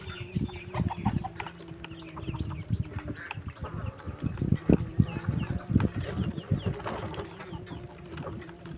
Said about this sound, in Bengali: এই যে মুরগি, কত মুরগি দেখেন